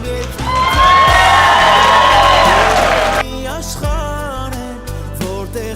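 Wedding guests clap and cheer loudly for several seconds, a dense burst of applause with whoops and shouting, then it breaks off into scattered voices and calls.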